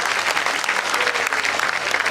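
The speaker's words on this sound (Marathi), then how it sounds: "आपण आता शेवटचे 2 पुरस्कार असल्यामुळे जोरदार टाळ्या वाजवूयात" Sustained applause from an audience at a teachers' award ceremony, a dense, steady wash of many hands clapping together at close range with no voices over it.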